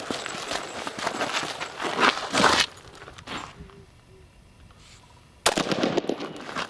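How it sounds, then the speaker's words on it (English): Carbine and handgun fired from cover during a low-light shooting drill, several rapid sharp reports in a burst, a quieter pause, then another loud volley close by. "Shot from cover."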